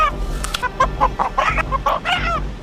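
A rooster in a VR rooster-fighting game clucks and squawks in a quick, loud, close-up run of cackling calls with short gaps between bursts.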